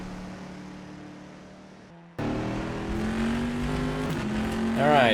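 Simulated race car in the rFactor 2 endurance game at the 24 Hours of Le Mans, engine tone rising steadily in pitch after a quieter stretch at the start, sustained and fairly loud, with a voice speaking over it.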